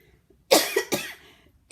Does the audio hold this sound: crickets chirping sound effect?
no